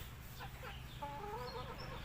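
Native Thai chickens cluck nearby in short, bright calls over a low steady background hum.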